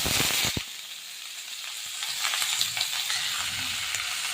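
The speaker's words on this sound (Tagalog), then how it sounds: "So, igisa lang natin yung sibuyas until naging transparent siya." Onions with fenugreek, garlic and ginger sauté in a frying pan with a soft, steady crackling sizzle, heard close up, with a couple of stirring knocks near the start.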